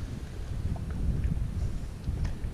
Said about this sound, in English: Damn, that wind, yo, that wind.